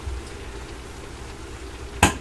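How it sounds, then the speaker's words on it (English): Ground beef in a pan sizzles steadily as a soft crackling hiss, then a single sharp clunk near the end, with no talk. "So now I'm hearing my ground beef sizzling, so I'm going to have to stir it."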